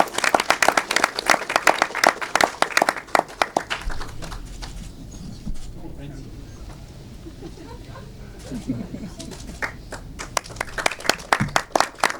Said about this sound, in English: Please give them a warm aloha and round of applause.